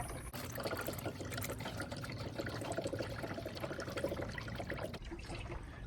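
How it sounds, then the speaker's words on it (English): Coolant streaming steadily out of a bleeder on a Chevy Equinox 3.4 V6 while burping air from the cooling system, a faint continuous trickling and gurgling flow. "when we see a steady stream of coolant coming out of there, it has pushed most of our air out of there"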